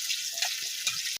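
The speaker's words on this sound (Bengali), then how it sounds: "কালি জিরা দিলাম ফোড়নে" Nigella seeds and chopped green chili crackle and sizzle in hot oil for a hilsa fish curry, a steady close frying hiss with faint soft pops, cut off abruptly.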